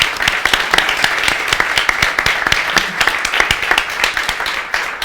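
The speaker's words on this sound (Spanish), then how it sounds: "yo os pido un aplauso para agradecerle su intervención y su trabajo." An audience at a talk on Spanish presence and cultural legacy in the United States bursts into sustained applause, a dense, loud stream of claps lasting several seconds without letup.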